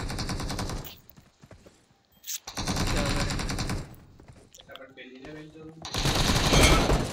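Automatic gunfire in the mobile battle-royale game PUBG Mobile, with several loud bursts of rapid shots separated by short pauses and a quieter stretch in between.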